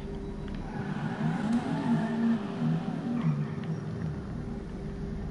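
A Toyota Supra's engine in GTA 5 Online hums and revs in rising and falling waves at moderate distance, then fades out near the end.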